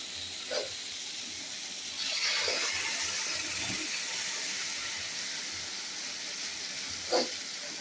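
Spice paste for palak paneer sizzles in a hot pan, a steady broadband hiss running throughout with a louder surge around two seconds in and a few brief spits, no voices.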